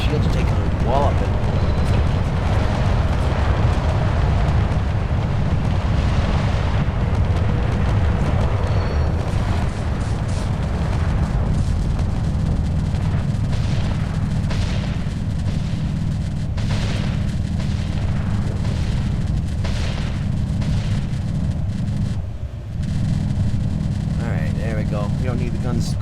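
Ship shields in Space Engineers taking repeated explosive hits, a dense, continuous roar of booms and rumbling blasts, with a voice talking over the din.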